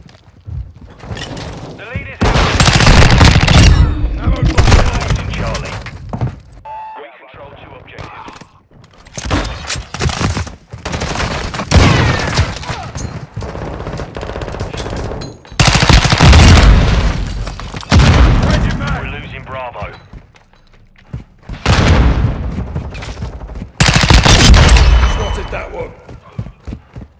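Gunfire and explosive blasts in a Modern Warfare II match, loud bursts arriving in repeated clusters across the whole stretch, with short lulls between them and game voice lines breaking in over the action.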